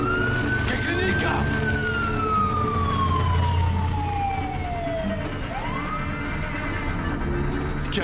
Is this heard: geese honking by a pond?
no